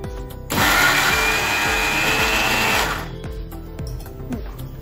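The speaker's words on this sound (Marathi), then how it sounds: "आता त्यात पनीर घातलेलं आहे पानात, आपण वाटून घ्या, बारीक करून घ्या।" A kitchen mixer grinder blends paneer with paan leaves into a paste, its loud, steady whirring motor starting abruptly, holding for about two seconds, then cutting off into quieter background noise.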